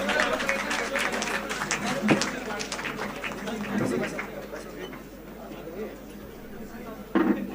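Audience applause at a Rajasthan government political event, a steady wash of clapping and crowd chatter that holds fairly loud throughout, with brief sharper bursts and voices mixed in.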